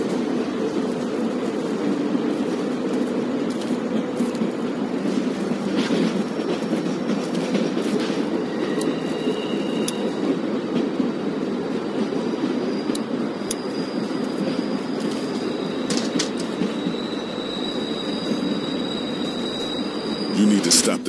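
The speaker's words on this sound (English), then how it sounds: "We need to stop this train." Train wheels rolling steadily on rails in The Walking Dead video game, a continuous rumbling clatter held close and loud throughout, with occasional higher squeaks and speech over it.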